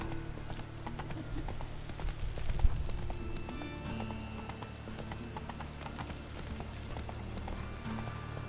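Horse hooves clip-clop at a steady gallop through a town in the Witcher 3 video game, a continuous rhythmic beat over ambient game sound with no voice heard.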